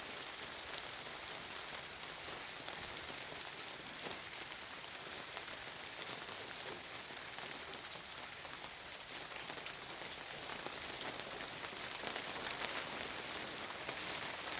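Steady, heavy rain from a December thunderstorm pounds against a door close by, a dense continuous hiss and patter that swells slightly louder toward the end.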